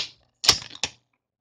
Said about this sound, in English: Conversely, a typical tape dispenser is going to sound like this.